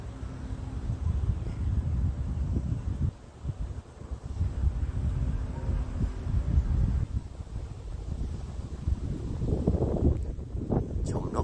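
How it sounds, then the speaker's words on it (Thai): Strong wind buffets the microphone beside a pond at dusk, a loud, steady low rumble with gusts rising and falling throughout. "วันที่ลมถือว่าแรงมากเลยวันนี้"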